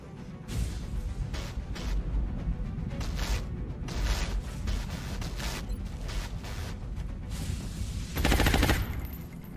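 Repeated bursts of gunfire from soldiers in the turn-based strategy game XCOM: Enemy Unknown Long War, sharp volleys with short gaps across the whole stretch and a louder, denser burst near the end, with no talking.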